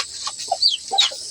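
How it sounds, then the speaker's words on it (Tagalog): A mother hen clucks in short, soft bursts close by, a few quick sharp squawks breaking through the quiet between clucks. "Ayan na po yung mother na manok."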